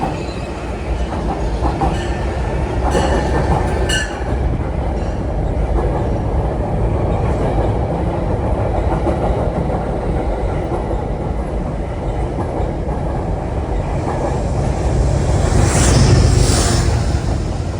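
A commuter train with a Conrail 201 car at the back rolls steadily along the rails in Harlem with a continuous rumble and rhythmic clatter of wheels, briefly rising toward a louder squeal near the end.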